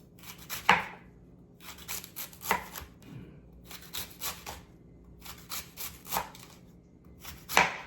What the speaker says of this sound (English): we're gonna just chop the top off. And we wanna thin slice it